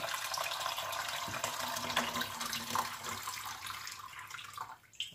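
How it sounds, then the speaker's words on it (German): Tap water running steadily into a cooking pot, filling it halfway to cook pumpkin in a kitchen; a continuous broad splashing rush that holds at a fairly even level throughout, easing slightly near the end, with no talk. "Und dann füllen wir den Topf bis zur Hälfte mit Wasser."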